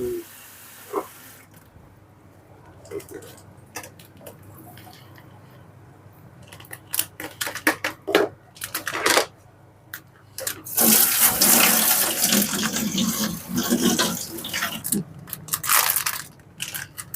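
Water pours and splashes as it drains off cooked sago in a pot for cendol, with scraping and clattering sounds mixed in, loudest toward the end.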